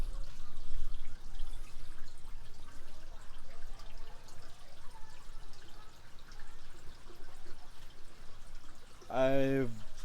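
Water drains steadily from a crayfish pond filter, a continuous rushing wash that runs the whole time at moderate level, with a brief voice near the end.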